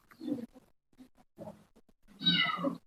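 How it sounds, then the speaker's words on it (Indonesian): A loose cat meows loudly and close once near the end, with low murmuring voices and rustling earlier in the clip, in a classroom-like setting. "Kucingnya siapa itu lepas?"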